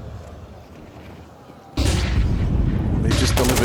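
Grenade blast in a Counter-Strike 2 match, a sudden loud boom cutting in after quieter background ambience, followed by sustained rumbling noise and a second burst near the end.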